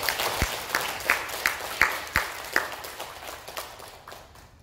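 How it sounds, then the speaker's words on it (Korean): Sparse, scattered clapping from a church congregation welcoming a retired senior pastor, a handful of separate claps spaced out over a few seconds, moderately distant and fading toward the end. "박수로 환영하겠습니다."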